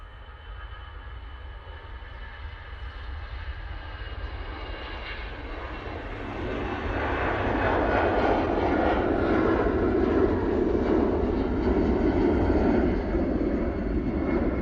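An EasyJet airliner on its takeoff roll, with a steady jet engine roar that swells louder and fuller about halfway through and then holds.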